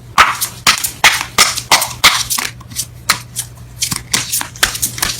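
Tarot cards are shuffled by hand in a quick series of crisp riffling bursts, about a dozen close, sharp rustles in an uneven rhythm with no voices.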